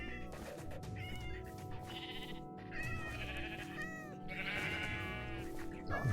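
Sheep in Minecraft bleat repeatedly in quick, wavering calls, several overlapping bursts over a steady game background, with a faint voice talking underneath.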